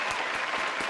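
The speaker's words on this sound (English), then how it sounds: "That's a round of applause to us" Brief burst of clapping, a short dense patter of applause with a few slightly stronger claps, alone without voices.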